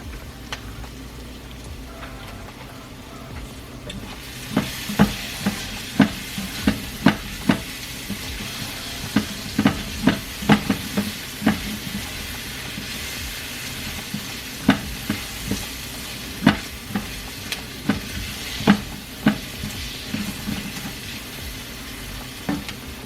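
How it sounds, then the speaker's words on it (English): Tortillas fry in hot grease for preparing vegetarian enchiladas, a steady close sizzle punctuated by frequent sharp pops and spatters. "Get my tortillas out. You know, put them in the grease."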